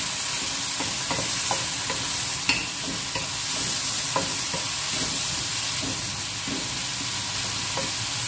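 Tomato frying in a pan for a prawn and green mango curry, a loud continuous sizzle and hiss with intermittent soft spoon scrapes and taps while being stirred, close.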